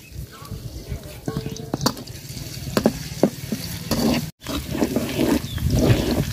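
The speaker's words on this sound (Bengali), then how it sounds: "পেঁয়াজটা লাল লাল করে ভাজা নিছি।" Chopped onions fry in oil with garam masala in a pot as they are stirred, giving a crackling sizzle with scattered scrapes and clinks and a brief break midway, while a voice speaks faintly in the background.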